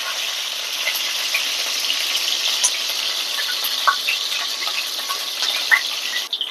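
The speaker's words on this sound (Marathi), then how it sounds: "तूप गरम झालं त्यात टाकायची मिरची" Green chilies fry in hot ghee for sabudana khichdi, a bright close sizzle dotted with small crackles and pops throughout, ending with a brief stir, no voices.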